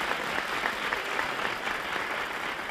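A studio audience on a Spanish television quiz show applauds three contestants, with a brief burst of steady, moderately loud clapping and no talk over it.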